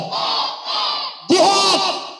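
A crowd at an Islamic foundation anniversary gathering in Indonesia shouts a loud, unified takbir response in two bursts, followed by a sharper, higher surge of massed voices.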